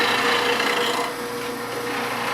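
A woodturning bowl gouge is sharpened in a jig, giving a continuous gritty rasping grind that eases slightly partway through, close and steady with no talking.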